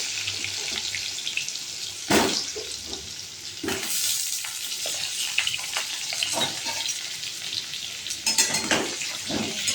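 Potatoes fry with salt and turmeric in a pan for mutton curry, giving a steady close sizzle with occasional louder bursts as they are stirred, no voices.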